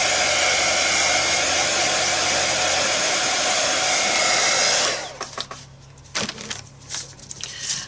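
Hair dryer blasting loud and close to dry gesso on an art journal page, a steady roar for about five seconds before it switches off, leaving soft handling noises.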